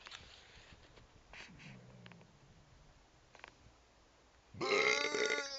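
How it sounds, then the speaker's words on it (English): A loud, long burp erupts near the end after a mostly quiet stretch with a few faint body sounds, close and harsh with a rough, rattling tone lasting about a second. "when I burp, I keep burping over and over until my body decides to stop"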